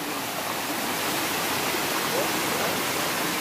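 Waterfall at Yeoor Hills near Mumbai, a steady loud broadband rush of falling water filling the whole stretch without letup, with faint crowd voices buried beneath.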